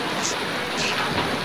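Rain falls steadily at an aqua park, a dense continuous hiss of drops filling the space, fairly loud and even, with no one talking.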